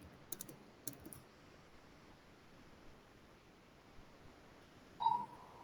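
A computer keyboard typing a shell command during a Docker training session: a few quick bursts of clicking keystrokes near the start, then a long near-silent stretch ending in a brief tone.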